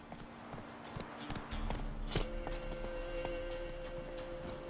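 Roach, a horse in the video game The Witcher 3, trots with a steady clip-clop of hooves beneath faint ambient game sounds and a low hum.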